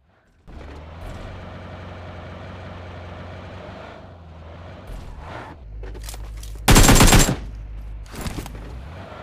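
Vehicle engine drone in the PUBG Mobile game as a car runs over a player, a steady low rumble with a loud burst of impact noise near the end and a few sharper bangs afterward.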